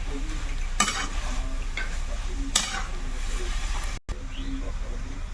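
Milk and date jaggery are stirred together in a pot over heat, giving a continuous sizzling simmer broken by a few sharper scraping strokes of the spoon against the pot.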